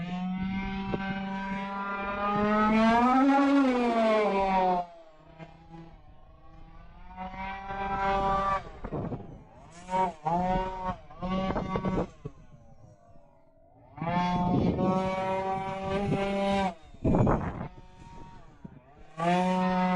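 An FG Evo 2020 RC car's petrol engine screams and revs in rising and falling bursts, with sharp throttle blips and brief idle gaps as it runs past.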